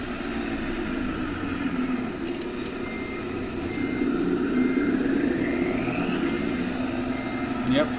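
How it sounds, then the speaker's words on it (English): A truck idles and rumbles steadily nearby while its backup beeper sounds in a faint, regular pattern, with a voice speaking over the engine noise. "got my backup beeper, so I'm legal"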